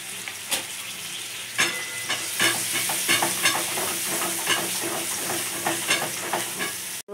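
Spice masala with sour yogurt is stir-fried in a pan for a jackfruit curry, a continuous hissing sizzle layered with frequent quick scraping and stirring strokes, loud and close, cutting off abruptly at the end.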